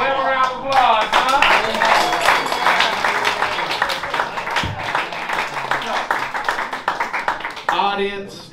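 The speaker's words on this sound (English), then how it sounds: "Give a round of applause, huh?" Audience applause at a comedy roast battle, loud close clapping that swells quickly and holds steady for several seconds before tapering, with a voice speaking briefly at the start and end.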